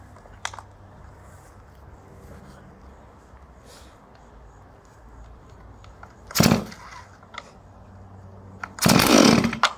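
A G466 chainsaw, just repaired after its decompression valve stuck and would not release, fires in two short, loud bursts near the end, with a quiet stretch and some faint voices before them.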